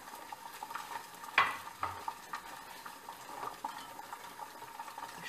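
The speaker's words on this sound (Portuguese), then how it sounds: "Deixa eu mexer bem" A plum bonbon mixture is stirred in a pan with a spoon, giving soft scraping and clinking against the metal, including one sharper knock, over a faint bubbling simmer.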